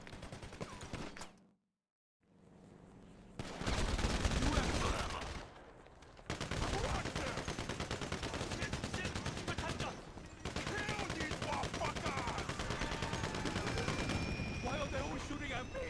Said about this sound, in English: Why are they always shooting at me?